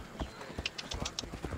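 Rapid clip-clop of a horse galloping in the video game Assassin's Creed Odyssey, a quick steady beat close by, with some voices and game sounds mixed underneath.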